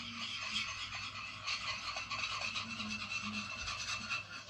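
A large spoon scrapes around a big bowl while slime is mixed, giving a continuous rough, rasping scrape with small wet squelches, fairly close and steady with no voices.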